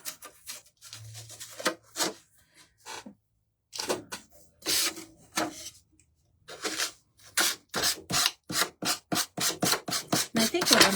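Sandpaper rubbed by hand across a craft piece, heard as a series of close, rasping strokes that speed up into a steady rhythmic run near the end, with a few pauses between bursts.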